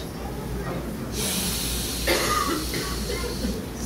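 A preacher imitates a man sniffing, making a few loud, breathy snuffling sounds close to the microphone over faint background hiss, without speaking.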